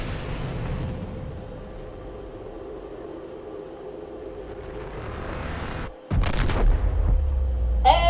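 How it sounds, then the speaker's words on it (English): A spaceship explodes in the underwater survival game Subnautica: a steady low rumble suddenly cuts out, then a loud booming blast follows, with heavy roaring low end continuing to the end. "And our ship exploded"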